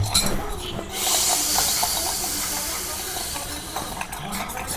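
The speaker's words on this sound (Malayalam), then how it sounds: "ഇത് ദോശമാ ഒഴിച്ചു കൊടുക്കട്ടെ" Dosa batter poured onto a hot pan in a home kitchen gives a loud, close, steady sizzling hiss that swells after a brief quieter start and holds evenly to the end.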